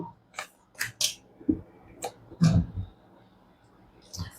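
Tarot cards being shuffled by hand, a series of short papery riffles and taps spaced unevenly, close and fairly quiet, with a thumpier burst in the middle.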